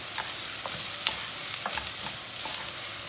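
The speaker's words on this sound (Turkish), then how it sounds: "Soğanı şöyle önce güzelce bir kavuracağız." Onions sizzle in hot oil in a pan with a steady frying hiss, while a spoon stirs them in occasional soft scrapes, close up and without talk.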